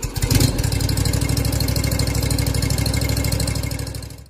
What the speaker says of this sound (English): So our mower is warming up.